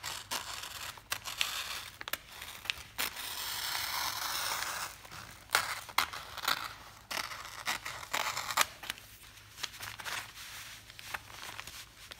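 Scissors cut through HeatnBond fusible backing and felt nearby, a run of crisp snips and scraping rustles with brief pauses between cuts.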